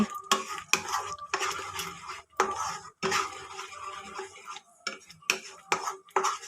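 Bottle gourd milk candy mixture being stirred in a pan, repeated scraping and clinking of a spoon against the metal in uneven bursts, close up.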